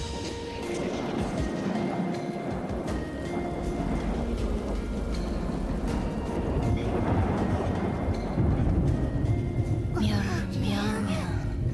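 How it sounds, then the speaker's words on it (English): Heavy wind, pouring rain and thunder roar through a stormy ocean world of Super Monkey Ball Banana Rumble, a constant dense wash of storm noise with low rumbles and a brief chirpy game sound near the end. "Heavy wind, pouring rain, and even thunder."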